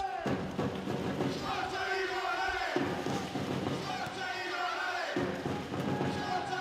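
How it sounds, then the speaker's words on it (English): Arena crowd at a CEV Champions League women's volleyball match between Novara and VakifBank roars and chants, a loud sustained din with rhythmic surges of voices and a commentator talking over it. "listen to the crowd"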